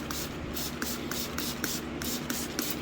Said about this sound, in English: You can spray them quite well.